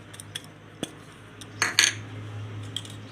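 A spoon clinks against a bowl while green garlic batter with crushed ajwain and salt is stirred, giving a few sharp, scattered taps close by over a faint steady hum, with no talking.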